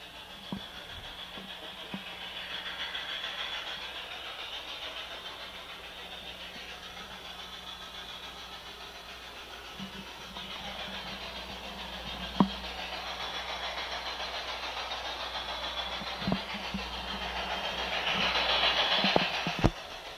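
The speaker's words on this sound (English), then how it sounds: "So I'll just run this engine over top of it" An LGB model train engine rolls steadily along garden-scale track at an automatic block section, a continuous close whirring motor hum with light rail clicks and a few sharp clacks, swelling slightly near the end.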